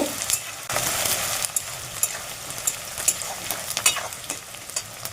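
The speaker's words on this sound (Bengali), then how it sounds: "পেঁয়াজটা দিয়ে দিলাম পেঁয়াজটা একটু লাল লাল করে ভেজে নেব" Four medium onions fry in a pan, a dense close sizzle with repeated scraping stirs of a spatula, steady and unaccompanied by talk.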